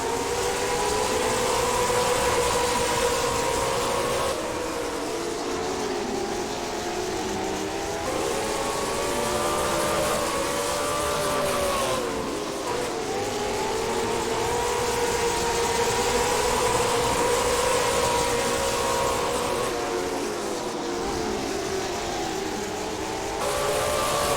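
Late model race cars lap Hickory Motor Speedway, a steady loud roar of several engines with rising and falling pitch sweeps as cars pass and work through lapped traffic, continuous for the whole stretch with no talk.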